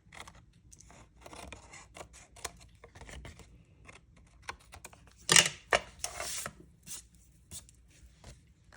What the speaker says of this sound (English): flip it over and with our snips, just cut off the excess pieces